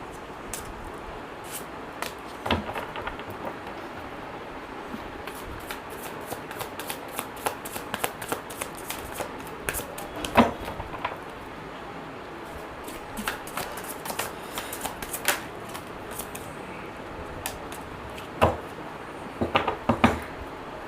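Tarot deck being shuffled in repeated quick riffling bursts of papery card flicks, close up and moderately quiet, with no talking.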